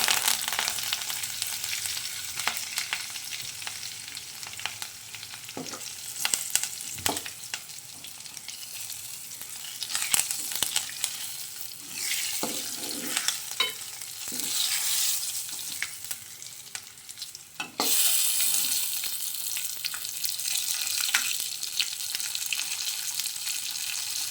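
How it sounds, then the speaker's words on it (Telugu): Oil sizzles and crackles continuously on low heat as tempering spices with fenugreek seeds and curry leaves fry, with bursts of popping and occasional stirring scrapes, a close, busy frying sound throughout. "తాలింపు సిమ్లో పెట్టే ఫ్రై చేసుకోవాలి"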